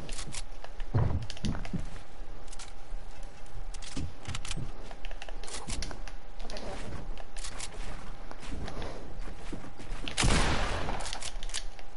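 Gunfire in an online shooter video game: a few sharp, scattered shots with a louder burst near the end, set over a steady background hum.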